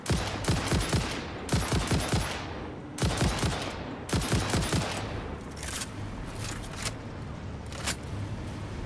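Rifle firing explosive ammunition in the factory-building game Satisfactory, loud rapid bursts of shots with sharp blasts, four clustered volleys followed by scattered single reports over a steady background.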